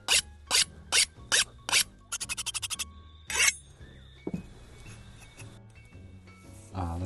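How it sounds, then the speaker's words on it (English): A blunt kitchen knife is sharpened with about half a dozen separate rasping strokes, then a quick burst of short scrapes and one more stroke, close up and fairly quiet, followed by faint clinks. "I might just go and sharpen my knife"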